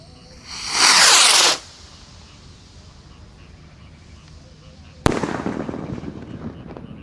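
Basoka Roman Candle Mini (Magic Ball) 1500-shot fireworks on a Ramadan night: a loud rushing hiss for about a second, a quiet pause, then a sharp burst followed by sustained crackling and popping.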